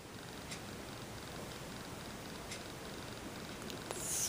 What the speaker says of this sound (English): I have a cat falling asleep in my lap.